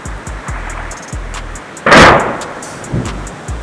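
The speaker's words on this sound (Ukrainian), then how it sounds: "поки ворог чи то пострілювався, чи то намагався налякати, мінометники своє завдання на сьогодні виконали" Enemy shelling from Russian forces, answered by Ukrainian mortar crews on the front line: a loud, close blast rolls out mid-clip amid several sharp, thudding booms and distant cracks of fire.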